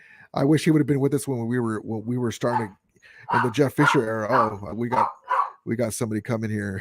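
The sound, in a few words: dog barking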